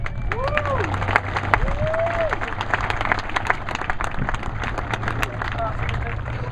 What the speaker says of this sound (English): I know all of you guys give them a round of applause.